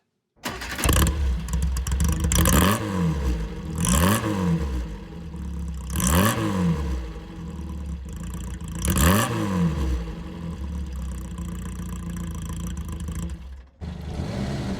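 A Reliant Regal three-wheeled car heard from outside, its small engine revved four times in a regular rhythm, each rise and fall clear and close, then settling to a steady idle before cutting off abruptly.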